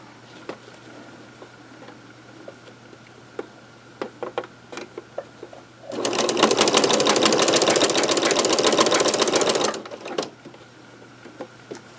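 A sewing machine runs steadily for about four seconds, stitching a half-inch seam on a double oven mitt, with a few light clicks and handling taps before and after the burst of stitching.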